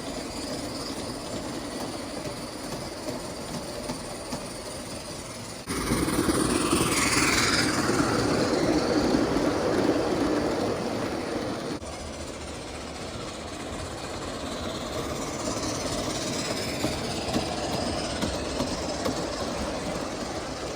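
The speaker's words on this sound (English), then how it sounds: "Here comes the tourist train and the first run of my Labatt reefer." A G-scale live-steam model train with a reefer car rolls steadily along homemade dual-gauge garden track with a continuous rumble and faint clicking, passing close by midway before fading back to a steady outdoor hum.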